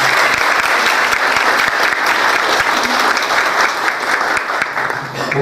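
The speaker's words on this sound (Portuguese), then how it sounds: "Uma salva de palmas," Loud, dense applause from an audience at a business event launch, steady throughout and close, thinning slightly in the final moment.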